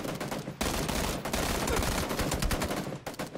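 Rapid bursts of automatic gunfire from a PUBG squad match ring out loud and dense for most of the stretch, with short gaps between volleys and no talk over them.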